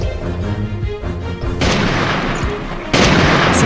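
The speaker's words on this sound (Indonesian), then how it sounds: "beberapa tembakan meluncur ke tubuh Sarpin" Gunshots ring out as a sound effect, a sharp burst followed by two louder blasts with noisy decaying tails, loud and close after a brief musical lead-in.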